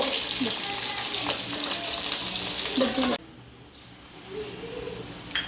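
Cumin seeds and a little garlic sizzling in hot oil in a kitchen pan, a loud continuous crackling fry that cuts off abruptly partway, leaving a quieter low sizzle with faint stirring.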